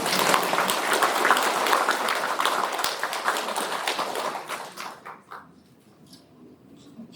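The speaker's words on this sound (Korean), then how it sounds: "멋있으면 박수 한번 쳐주시죠" Audience at a residents' briefing on a former textile factory redevelopment bursts into loud, dense applause that holds steady, then thins to scattered claps and fades out after about five seconds.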